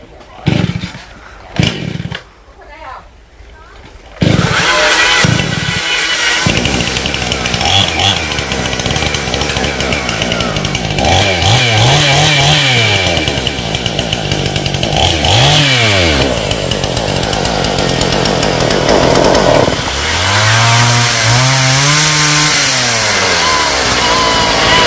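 Chainsaw felling coconut trees outdoors, starting after a few seconds of faint handling noise and then running loud and close, its engine repeatedly revving up and bogging down as it bites into the trunk.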